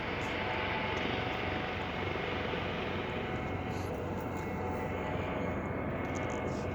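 A small plane flies over hilly countryside near an airport used for light commercial and medical flights, its steady propeller-engine drone continuous and fairly loud throughout, with no talk.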